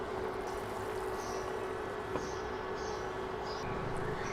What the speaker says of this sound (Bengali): আমি আধা লিটার থেকে কিছুটা বেশি পানি দিয়ে দিচ্ছি, আর আমি গরম পানি দিচ্ছি।